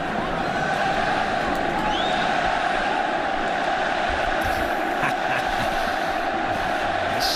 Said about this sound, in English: to the cheers of the Barcelona fans in the stadium